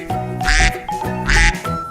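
A wooden toy duck's call: two loud, nasal quacks close by, evenly spaced about a second apart, with no talk.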